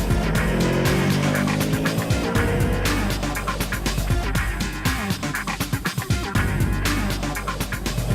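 Yamaha R3 321cc parallel-twin motorcycle engine revving hard, a loud, dense, continuous engine roar with rapid throttle blips and pulsing surges throughout, close by with no talk.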